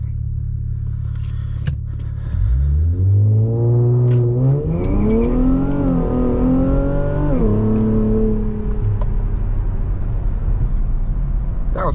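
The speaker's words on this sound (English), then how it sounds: "This is where I can now do a launch whenever this red light is done" A tuned all-wheel-drive Infiniti Q60 on high boost launches from a red light at night: a low idle, then the engine revs hard and climbs through rising pitch, shifting and pulling loudly before easing off.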